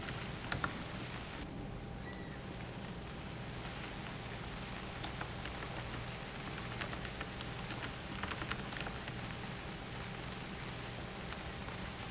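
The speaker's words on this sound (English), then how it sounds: "Started to rain." Steady rain pours in the survival game UnReal World, a continuous even hiss of falling drops filling the scene with no voices.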